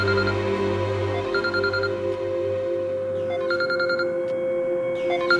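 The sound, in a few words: mobile phone ringing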